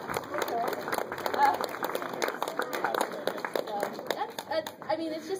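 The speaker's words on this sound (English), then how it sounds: "yeah, I'll clap for that." An audience at a 2015 Comic-Con panel applauds, a dense patter of clapping that rises and falls through the crowd noise, with talk mixed in.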